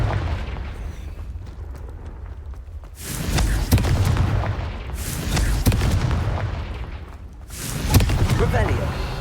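Blasting Confringo spell explosions from the Hogwarts Legacy video game, three loud booming bursts at roughly three-second intervals, each with a rumbling tail, over low game ambience.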